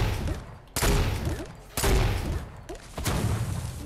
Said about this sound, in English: Who the hell is shooting already?